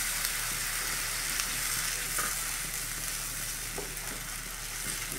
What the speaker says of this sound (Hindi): अब इसमें हम डालेंगे हमारी टमाटर की प्यूरी